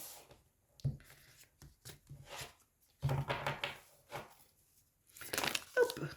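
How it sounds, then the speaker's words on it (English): Tarot cards being shuffled by hand, with cards spilling out of the deck; several short bursts of riffling and slapping paper, close and fairly quiet, separated by brief pauses. "I didn't even get a chance to barely shuffle. You got cards flying out the deck here."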